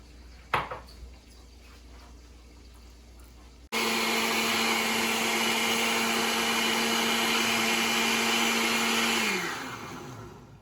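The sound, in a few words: blender blending coconut with water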